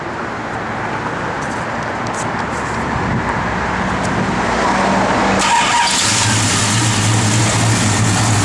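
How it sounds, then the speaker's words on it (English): A 1972 Dodge Demon with a mild cam running, a loud, steady engine rumble with a broad rush of noise that swells and grows harsher partway through. "I have Jordy fire it up here."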